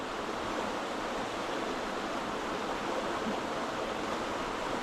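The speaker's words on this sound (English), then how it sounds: "Just a uniform sound of water." Steady, uniform rush of river water flowing over a single obstacle at a portage on the Huron River, a dense unbroken wash with no distinct splashes, constant in level throughout.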